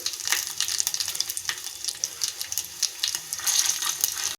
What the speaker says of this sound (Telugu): దాంట్లో ఎండుమిర్చి, వెల్లుల్లిపాయలు, ఆవాలు, కరివేపాకు వేసి బాగా వేసుకోవాలి